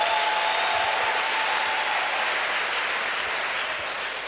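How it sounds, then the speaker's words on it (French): Congregation applauding in church during a sermon, a steady dense wash of clapping that holds throughout, slightly easing toward the end, with no talk over it. "Acclamons très fort pour ce Dieu."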